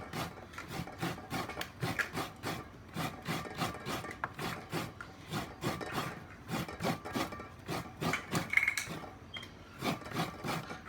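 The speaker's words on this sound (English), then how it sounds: "real coconut, fresh coconut, and then you try to scrape it off this way" Fresh coconut flesh is scraped from the shell for Tongan otai, heard as a steady rhythm of quick, close, rasping strokes, each one distinct, with no voices.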